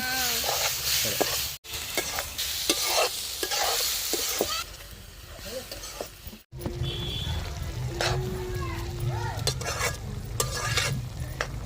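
Goat tripe stirred and frying in oil in a pan, with a steady loud sizzle and repeated scraping strokes of a spoon, some clinks of utensil against the pan, continuous and close.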